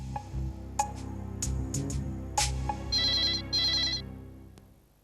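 A telephone rings on an outgoing call, with repeated bright electronic ring bursts in a steady pattern and two longer trilling tones near the end before it cuts off. No voices are heard.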